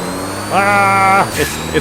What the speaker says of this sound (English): just how quickly the engine would rev up and down and the instant torque